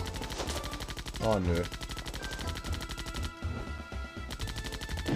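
Rapid bursts of gunfire in the zombie shooter game Zombie Panic in Wonderland, loud and nearly continuous over a musical backing, with a brief spoken exclamation mixed in.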